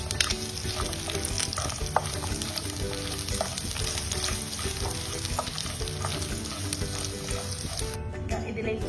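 Crushed garlic and curry leaves fry in hot oil in a pan for Kottayam-style beef ularthu, a steady close sizzle with stirring clatter running throughout, alone without talk.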